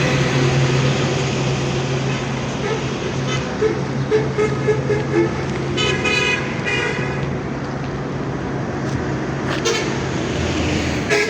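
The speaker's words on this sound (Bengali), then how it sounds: "আর এই হলো ঢাকা হাইওয়ে রোড।" Busy traffic on the Dhaka highway road at the Natiyapara flyover in Delduar, Tangail, with a continuous roar of passing vehicles and buses and several short car horn toots cutting through near the middle and end.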